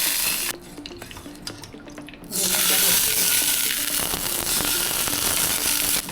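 After a few quieter seconds with light clinks, a loud, sustained sizzling hiss erupts as tempering for pachi pulusu hits hot oil and continues to the end.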